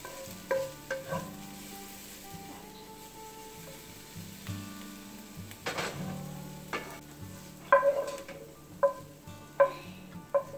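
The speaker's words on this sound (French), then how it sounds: "couper les oignons et ensuite on les fait dorer dans un poêlon" Onions browning in a skillet, a steady low sizzle with repeated sharp scraping and stirring clicks from a utensil against the pan, close and fairly quiet, no voices.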